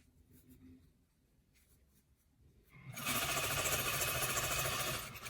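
Sewing machine stitching an elastic strap onto a fabric face mask: a quiet start with faint rustling, then a loud, steady close mechanical whir of rapid stitching over the last two seconds.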